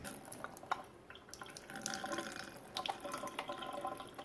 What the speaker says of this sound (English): So I'm going to drain the vast majority of the liquid out of here.